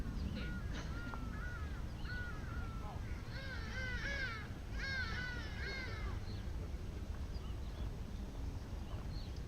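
Crows cawing from trees at an outdoor bowls match, several harsh calls in clusters over steady outdoor background noise, with faint voices nearby.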